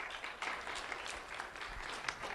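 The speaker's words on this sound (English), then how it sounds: "Let's have a round of applause for Brian Hernandez." Applause at a youth awards ceremony, a dense, even patter of many hands clapping from a seated audience, steady and moderately loud across the short stretch.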